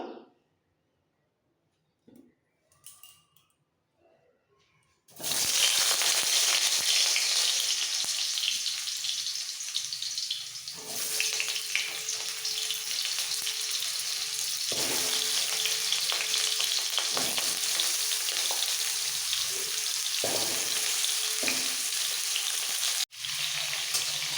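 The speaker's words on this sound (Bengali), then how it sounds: "তেল ভালোভাবে গরম হয়ে গেছে এবার ধুয়ে রাখা কাটা আলুগুলো সব দিয়ে দেবো ভাজার জন্য" Washed, cut potatoes go into hot soybean-style cooking oil and fry with a sudden loud burst of sizzling that settles into a steady, close crackle for about twenty seconds, with a few clunks, after a quiet start.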